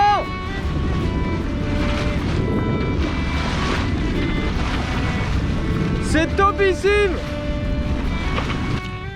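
Strong wind blows across a sailboat under sail, a loud steady rush of microphone buffeting beneath a shouting voice speaking French, with a brief creaking or squealing tone partway through.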